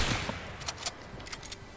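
Pistol gunfire in a video game: several short, snappy shots spaced unevenly over a loud, rushing noise bed, each one quick and moderately distant.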